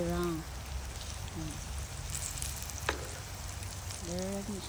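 Dried fish crackles and sizzles in hot oil over an outdoor backyard fire, a steady broadband hiss running throughout, with someone talking at the start and end.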